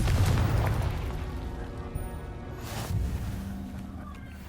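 A Confringo spell blast in Hogwarts Legacy lands as a loud, rumbling explosion that swells then decays over a few seconds, with a second boom partway through.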